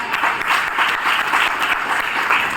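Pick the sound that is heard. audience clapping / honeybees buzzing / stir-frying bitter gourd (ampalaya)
audience clapping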